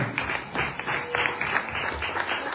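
Audience at a church gathering clapping enthusiastically in a dense, steady burst of applause that holds for a couple of seconds.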